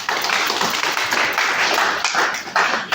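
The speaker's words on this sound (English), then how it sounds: "I think it deserves a round of applause." A room of attendees at a press conference for a Christian choir festival gives a round of applause: dense, continuous clapping close to the microphone, loud and unbroken for a few seconds.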